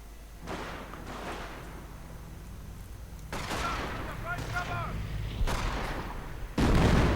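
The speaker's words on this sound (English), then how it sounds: "we are seeing a sector artillery mission being called in" Video game artillery strikes thud and boom in several separate blasts, with a louder hit near the end, against a steady rumbling battlefield background while a commentator talks over it.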